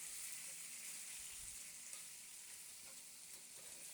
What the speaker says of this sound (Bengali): এইবারে মাছটা আর সবজিটা ভালো করে নাড়িয়ে চাড়িয়ে